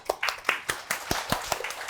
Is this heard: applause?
yes